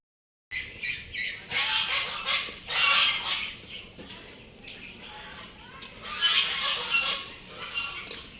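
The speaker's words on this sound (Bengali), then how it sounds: "যে আওয়াজ শুনতেছেন এটা আসলে রাজহাঁসের আওয়াজ সম্ভবত" Geese (domestic geese) honk and squawk repeatedly in loud, overlapping bursts close by, with a few quieter pauses between calls.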